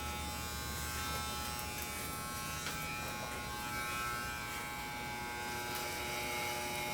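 An electric hair clipper hums steadily and loudly, held close while moving slowly up vertical sections of long hair on a man's head, with no talk.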